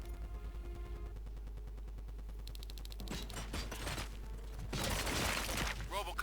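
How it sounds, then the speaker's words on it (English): Bursts of gunfire during a prison riot in the RoboCop: Rogue City video game, sharp rapid shots and mechanical clatter over a steady low hum, no talk. "Gunshots? What's going on?"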